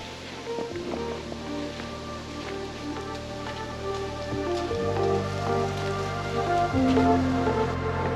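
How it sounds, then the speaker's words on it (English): Chunky snow falling like hail, pattering steadily on surfaces around a sheltered spot outdoors, a dense rain-like hiss with a low hum underneath and no talking. "Pretty chunky snow coming down. Almost sounds like hail"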